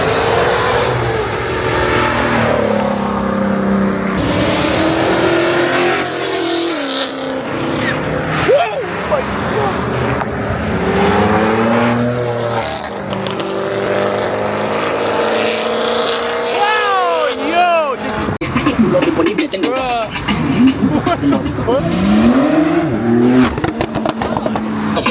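An Audi RS4 at a busy street car meet revs hard, its engine rising and falling in loud repeated pulls among other car engines, with crowd chatter and shouting throughout.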